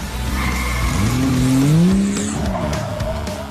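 Toy Paw Patrol Rise and Rescue fire truck rolling along with a revving, rising motor whine and a brief tire-squeal sweep, loud and close, with no talking.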